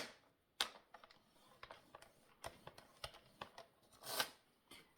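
Paper card stock being folded in half and creased down the middle for a handmade exchange card, giving soft crackles and sharp scraping snaps at irregular moments, close and fairly quiet.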